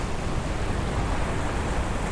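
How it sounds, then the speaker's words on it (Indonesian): Large ocean waves breaking on a rocky beach in Bengkulu, Sumatra, a continuous broad wash of surf that is fairly loud and steady with no voices. "Soalnya ombaknya itu ombak-ombak besar semua"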